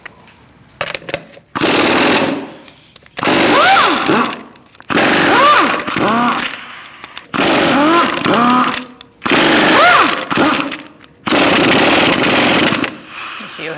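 A power tool with a 17mm socket removes the wheel bolts on a 2008-2014 Mercedes-Benz C300, sounding as six loud, sustained bursts of rattling impact whirring separated by short pauses.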